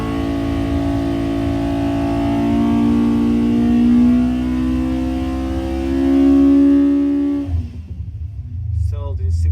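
A 1040 engine held at high revs on a dyno drones loudly and steadily, rising slightly in pitch before cutting off abruptly near the end.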